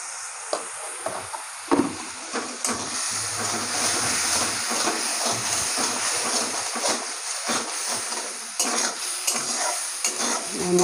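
A Bengali village spice paste of ground ginger and salt fries loudly in a pan, a steady close sizzle broken by repeated scraping stirs throughout.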